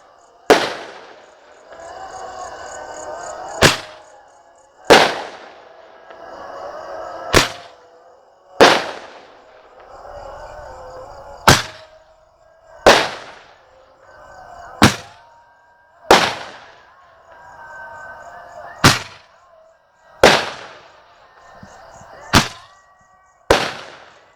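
Basoka 48-shot fireworks and firecrackers go off on Takbir night, a series of about a dozen sharp, loud bangs at irregular intervals of one to three seconds, each trailing into a crackling, ringing decay with faint background chatter.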